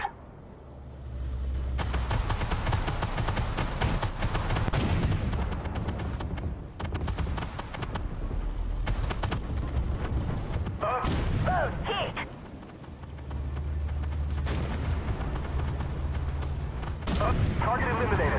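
Gunfire and heavy weapon bursts in the Armored Warfare Spec Ops campaign, a dense, sustained barrage of booms and rattling shots across the whole stretch with brief lulls, with speech partly layered over it.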